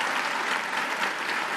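Crowd at a French political rally for the European elections applauding loudly and steadily, a dense wash of many hands clapping at once.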